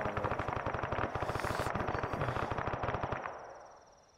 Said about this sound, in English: there's something else shooting at us